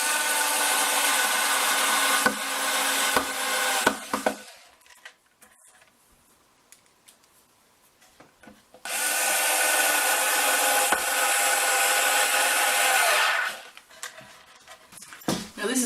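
A power driver whirs close up as drywall screws are driven into a wooden sculpture stand, in two long bursts separated by a quieter stretch of small clicks and handling noises.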